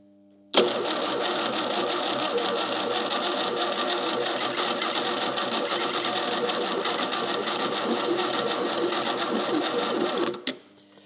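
A Fiat 600 engine cranks steadily on the starter for about ten seconds, a continuous loud mechanical churning that runs unbroken before cutting off abruptly near the end.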